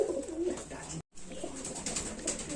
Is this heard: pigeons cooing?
yes